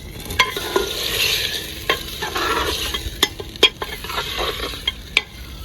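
Chicken frying in a pan with garlic, black pepper and lemon, cooked in a rustic village style: a steady sizzle under repeated sharp scrapes and clacks of a spoon stirring, close and fairly loud.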